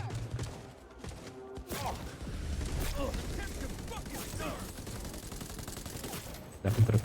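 Gunfire crackles in a video game shooter running with ray tracing at 1440p, rapid bursts and thuds continuing for several seconds with a voice talking over the shots.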